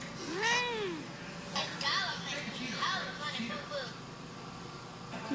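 A cat meows several times, with a long rising and falling call followed by shorter mewing cries, fairly close and set against low room noise.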